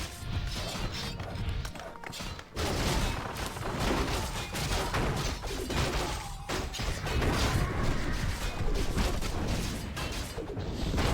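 Dense, continuous Warcraft III battle din of Human mortar teams firing alongside clashing units, with repeated booming thumps and mechanical clatter layered throughout at steady loudness.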